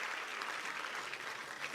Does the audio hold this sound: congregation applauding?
yes